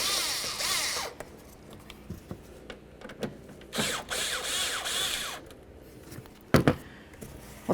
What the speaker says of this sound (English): Loosen your clamps.